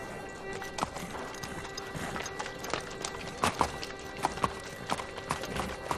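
Horse hooves clip-clop in a steady irregular rhythm under a faint background hum, with an occasional snort or whinny of the horse nearby.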